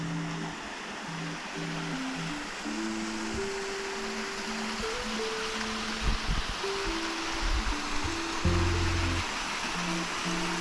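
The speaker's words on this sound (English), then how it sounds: "This tiny little creek led up to our second waterfall" A small creek in Uvas Canyon County Park in California trickles and washes steadily nearby, a continuous soft rush under a sustained melodic tone that changes pitch, with a few brief louder bumps toward the end.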